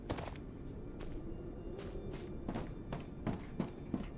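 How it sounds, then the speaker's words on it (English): Small creatures in StarRupture skitter about on little legs, giving scattered quick taps and soft thumps at irregular intervals over a low background hum. "you can hear their little legs"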